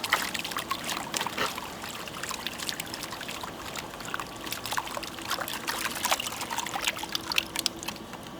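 Water trickles and pours into a gold pan while wetting concentrates outdoors at Eldorado Canyon, a soft continuous splashing and dribbling, fairly faint and close, with no talk.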